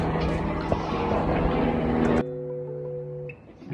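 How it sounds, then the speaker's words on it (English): A helicopter flying overhead outdoors in a garden, its loud, dense rotor and engine roar filling the air before cutting off abruptly, leaving a lower steady hum that fades. "that helicopter wasn't gonna let me talk"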